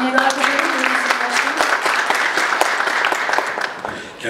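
Audience applause at a Pendik city council general assembly in Turkey, steady clapping with a faint voice and music-like tones underneath, continuing throughout.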